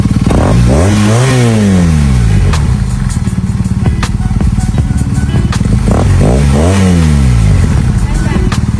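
A BMW R nineT Scrambler boxer-twin motorcycle with an aftermarket exhaust idles loudly up close and is blipped twice, each rev rising sharply and falling back to a throbbing idle.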